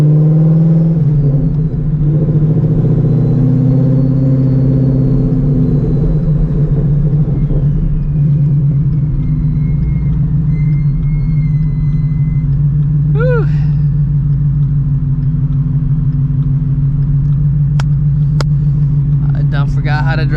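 A car being driven pulls off with a jerky takeoff, a loud low engine rumble swelling and settling, while a voice talks over it near the start and faint sharp noises intrude later.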